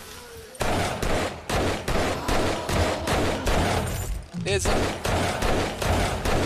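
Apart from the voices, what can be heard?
explosions in the video game 7 Days to Die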